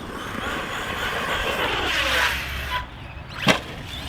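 An HPI Vorza S RC truggy, stock, on a 4S battery, drives with a steady high-pitched motor whine and rushing tyre noise. A sharp click sounds near the end.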